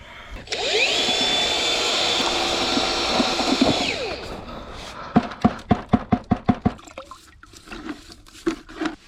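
An electric mixer spins in a bucket of Limelite renovating plaster, a steady whirring drone that winds down, followed by a string of sharp knocks and taps as the paddle is cleared.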